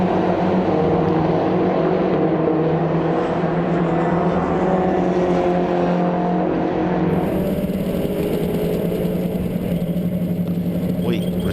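Mini Challenge race cars battling at Silverstone, a steady loud engine drone with a slight shift partway through, heard from inside or near the cars.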